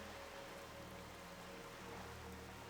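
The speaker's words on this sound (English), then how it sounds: "now it's starting to rain." Rain falls in the Turtle WoW world, a steady, faint, even hiss of drops with a low ambient hum underneath, unbroken throughout and without any voices.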